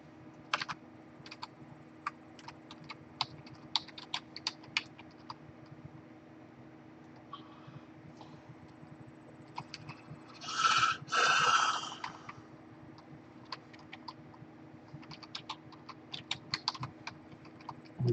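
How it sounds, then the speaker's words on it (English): Rapid, irregular keystrokes clatter on a computer keyboard nearby for the whole stretch, broken by a brief breathy snort or sniff partway through, over a low steady hum. "I'm just gonna type this up real quick."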